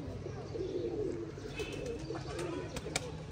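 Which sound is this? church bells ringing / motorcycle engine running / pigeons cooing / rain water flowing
pigeons cooing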